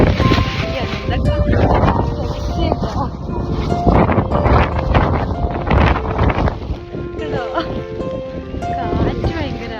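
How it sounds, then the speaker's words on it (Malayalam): Strong wind gusts at the Kakkadampoyil hills, roaring and buffeting the microphone continuously, while people talk over the blustery noise. "കാറ്റ് ഭയങ്കര."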